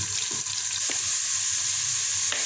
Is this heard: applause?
no